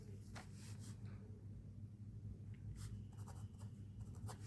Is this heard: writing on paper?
yes